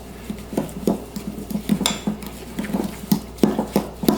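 A spoon clatters and scrapes against a bowl as softened butter and brown sugar are mixed into a cinnamon roll filling, in quick, irregular knocks and scrapes close by.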